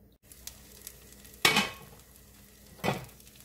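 Egg mixture with cabbage cooking in a frying pan over low heat, a soft steady sizzle broken by two louder scraping or clattering bursts, likely the lid or a utensil against the pan, with no voices.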